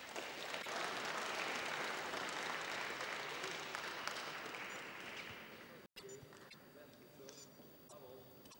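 A Russian crowd applauds at a women's squash quarter-final in Russia. Sustained, fairly distant clapping fills the first half and fades out, a commentator's voice runs over it, and a brief cut leads into quieter court ambience.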